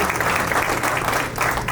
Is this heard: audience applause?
yes